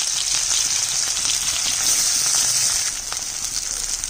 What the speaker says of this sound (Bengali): এবার পেঁয়াজ কাটা দিয়ে দিচ্ছি